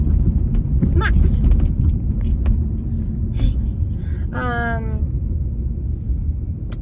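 A car engine with a broken muffler drones loudly and steadily from inside the cabin, a low continuous rumble under a person talking, with a few brief sharp sounds over it.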